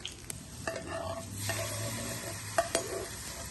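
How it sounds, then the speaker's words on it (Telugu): A hot sizzle crackles steadily as tempering oil is poured onto wood apple curd chutney, with a couple of sharp utensil clinks near the end. "వేగిపోయిన తాలింపు పట్టుకెళ్ళి వెళ్ళి పచ్చడి వేసేసుకోండి"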